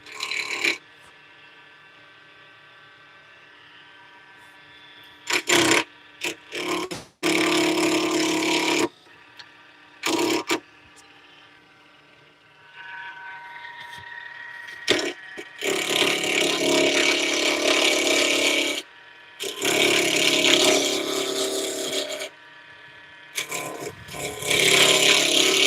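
Carbide tool cutting wood on a lathe in bursts: steady tonal motor hum, then rough scraping cuts of a few seconds each, with longer sustained cutting passes toward the end.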